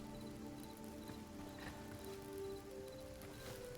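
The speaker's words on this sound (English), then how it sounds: "the rain leaves little ripples when it lands on the ground" Steady rain pattering on the ground in the video game Hytale, a dense, even patter with soft scattered drops under faint game ambience and background music tones.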